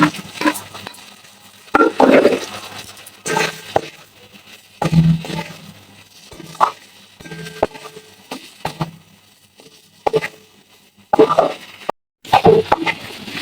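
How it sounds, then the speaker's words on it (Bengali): Fried bitter gourd pieces tipped into spices frying in a pan, giving a few soft plops and bursts of sizzling and stirring between quieter stretches. "এর মধ্যে আমি ভেজে রাখা উচ্ছেগুলো দিয়ে দিচ্ছি"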